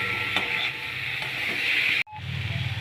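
Spices with turmeric and coriander powder sizzle steadily as they are stir-fried in a pan for a Bengali fish curry, a continuous close hiss with a brief cutoff near the end before the frying resumes.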